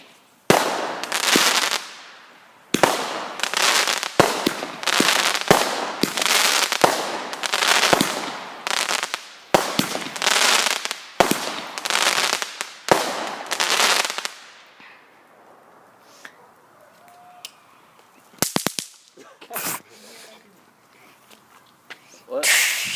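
Firecrackers set off outdoors crack in a rapid, loud burst of sharp bangs that last about fourteen seconds, then fade to a quiet hiss with a few scattered later pops.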